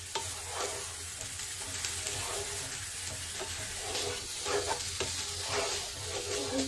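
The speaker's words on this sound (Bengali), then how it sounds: "এখন আমি ভাজবো।" Meat frying with sugar in a pan, a dense, steady sizzle with scattered crackles and occasional stirring scrapes, close and moderately loud throughout.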